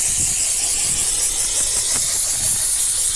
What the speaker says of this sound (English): when I have my steamer available, is I like going around the wheel and the tire bead first to get some of that heavy dirt off